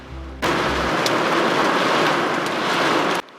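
Baseball-size hail pounding rooftops and cars during a storm in Austin, Texas, a dense loud clattering roar of impacts that starts abruptly, holds steady for about three seconds and then cuts off, with no talking.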